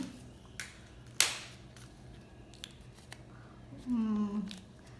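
An AirPods Pro box is opened with a sharp tearing rip, followed by soft rustles and taps of packaging, close and fairly quiet, with a brief voiced murmur near the end.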